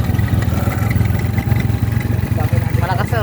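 A Rusi motorcycle engine runs with a steady low throbbing beat, close and loud, while people talk over it throughout.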